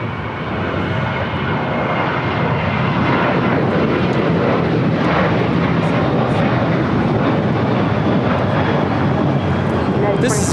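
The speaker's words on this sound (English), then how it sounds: "This is United Airlines 2449 taking off to Las Vegas on a 737-800." A United Airlines Boeing 737-800 takes off from LAX, its jet engines building into a loud, swelling roar that fills the air, with people talking over it.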